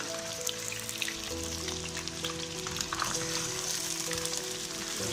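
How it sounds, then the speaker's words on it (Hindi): Goat meat frying in hot mustard oil: a steady, faint crackle and patter of sizzling, fine spattering pops over a low hum, continuous with no voices. "तेल गर्म हो चुका है। अब ये गोश्त हमने इसमें डालना है। अच्छी तरह भूनना है।"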